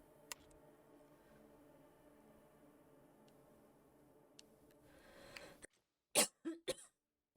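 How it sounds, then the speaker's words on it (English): A person coughs in three sharp, close bursts in quick succession, right after a stretch of quiet low background hum. "I am so sorry for coughing"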